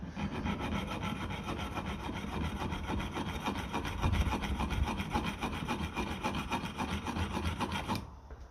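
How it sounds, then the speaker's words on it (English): A big hacksaw cutting through metal on the carburettor of a 1957 Ferguson FE35 TVO tractor: a close, rapid, steady rasping of back-and-forth strokes with a scratchy texture, continuing for several seconds before stopping abruptly. "I have to use the big hacksaw here"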